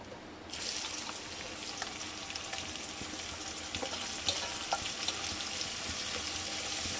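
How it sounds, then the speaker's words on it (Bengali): Chopped onions with cardamom hit leftover prawn-frying oil, starting a sudden loud sizzle that stays steady and close, with faint occasional stirring clicks and no talking. "এই পেঁয়াজগুলোকে কিন্তু একটু লাল করে ভেজে নিতে হবে, খুব লাল লাল করে ভেজে নিতে হবে।"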